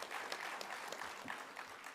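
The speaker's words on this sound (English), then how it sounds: "please give yourself a round of applause" Audience applause at a presidential social sector summit keynote in Gauteng, an even, moderately distant wash of clapping across the whole moment.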